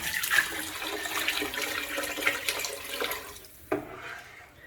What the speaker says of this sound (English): add 6 to 8 cups of water